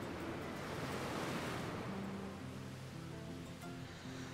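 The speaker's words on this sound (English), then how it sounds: "Surging, murky water rushes over the land around the river during an intense flood." A major river flood in the Civilization VI strategy game brings a dense, steady roar of surging water like heavy surf, loud and continuous with a faint low tonal hum underneath and no voices.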